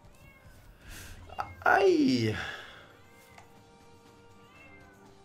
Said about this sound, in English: why do they have to meow nonstop?